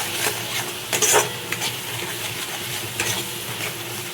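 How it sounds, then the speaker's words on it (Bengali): Dry red chili powder and Kashmiri chili powder masala sizzle in oil in a pan while being stirred, with a constant frying hiss broken by a few louder scraping strokes of the spoon. "ভালো করে নাড়বো যতক্ষণ না তেল ছাড়ছে"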